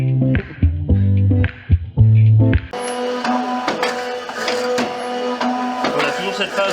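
A soil block making machine runs its conveyor belt and cutter, giving a continuous mechanical whirr with repeated clicks and knocks, preceded by a few seconds of stop-start tonal beeps and clunks.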